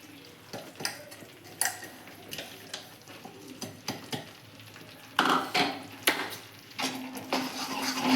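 Spoon scraping and knocking in a pan as crushed peanut powder is stirred into melted jaggery for sing paak, with irregular clinks and soft sizzle, close and moderately quiet.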